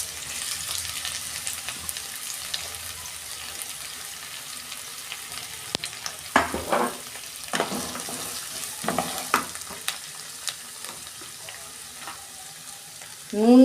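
Sliced onions fry in hot oil in a wok for a home-style Bengali lote fish dish, giving a steady close sizzle broken by stirring clatters and scrapes, with a louder clank at the end.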